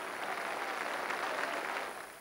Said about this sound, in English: The crowd give the game the applause it deserves